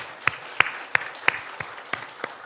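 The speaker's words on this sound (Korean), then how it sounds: "우리 박수로 환영하겠습니다." Sparse applause from a church congregation welcoming a newcomer during a Sunday service: a handful of distinct, evenly spaced claps in a quiet room, fairly soft and unhurried.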